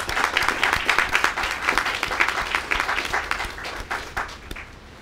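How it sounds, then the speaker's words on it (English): A dense, steady wash of audience clapping rises at an outdoor groundbreaking ceremony for a college campus on a cold, wet day, then tapers off toward the end. "Let's give them a round of applause."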